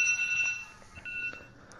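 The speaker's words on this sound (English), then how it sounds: "someone's alarm's going off in the background." An alarm sounds in the background as steady, faint electronic tones at about the same pitch. It plays alongside a race broadcast from a preseason 450 motocross last chance qualifier, with some intermittent thuds underneath.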